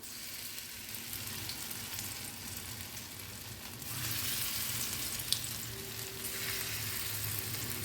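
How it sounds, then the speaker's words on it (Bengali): Semolina and potato pakoras sizzle steadily in hot oil, a dense continuous frying hiss with a low hum underneath that grows louder about halfway through, with no one speaking. "এটাকে ভেজে নেবে।"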